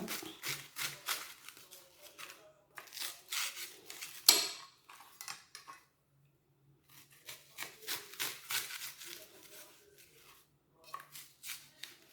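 A leek being sliced with a knife on a cutting board in a home kitchen, heard as runs of quick, crisp chopping strokes in bursts separated by short pauses, close and fairly quiet.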